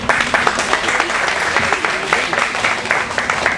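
An audience claps steadily through a round of applause at a company safety stand-down event, with dense, even clapping filling the room and faint crowd murmur under it.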